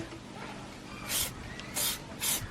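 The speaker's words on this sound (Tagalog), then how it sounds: "Spray paint." Spray paint can spraying outdoors on a farm, three short hissing bursts about half a second each over a steady low background rumble, close by.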